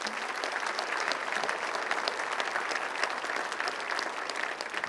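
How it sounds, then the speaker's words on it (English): An audience at a city meeting gives a round of applause, a dense, steady stretch of many hands clapping at a constant level throughout, with no talk. "give them a round of applause"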